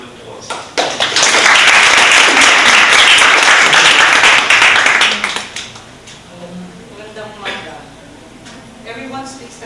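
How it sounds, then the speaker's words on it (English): An audience applauds loudly for about five seconds, then the clapping dies away to a few scattered claps and quiet murmuring. "please welcome them with a round of applause"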